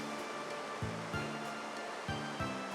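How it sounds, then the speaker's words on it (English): Steady broadband rushing of a waterfall in the Etrian Odyssey III dungeon, a constant hiss heard alone and joined by a few low rhythmic thumps. "Probably just sitting here listening to the waterfall"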